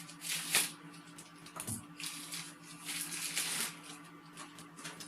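Plastic covering being peeled off a replacement UPS battery, a soft crinkling rustle with a couple of sharper crackles early on, close and steady over a faint background hum.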